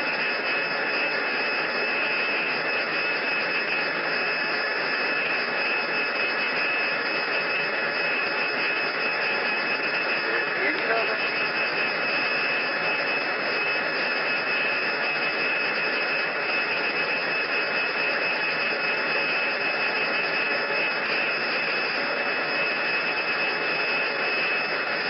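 Tupolev 154 jet engines drone in a flight simulation of an approach to landing, a loud, steady whine and roar held without change throughout, with no talking.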